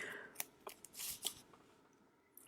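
Scissors are handled and snip a few times while paper crafting a card, short crisp clicks and a brief rustle, close and fairly quiet with no talk.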